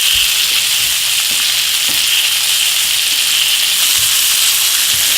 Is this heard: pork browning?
yes